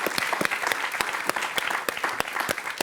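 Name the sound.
studio audience applause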